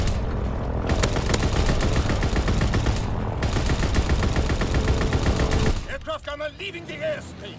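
An anti-aircraft gun in a WW2 video game fires in loud, sustained rapid bursts that pause briefly and resume, then cut off as voices speak over fainter battlefield noise.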